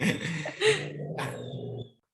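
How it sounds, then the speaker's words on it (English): Dog outside giving short growly barks and yips, a few separate bursts at moderate distance over a steady background hum, no one talking. "there's another dog outside."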